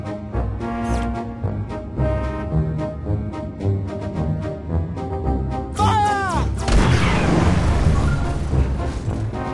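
In a Treasure Planet naval battle, ship cannons and torpedoes fire as a rapid run of heavy booming shots, then a sweeping whoosh and a loud rumbling blast, all dense and close.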